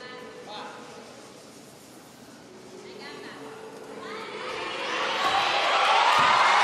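Crowd at the Pala Vesuvio swells into loud cheering at an artistic gymnastics apparatus final, rising steadily from a murmur to a roaring ovation over a commentator's voice.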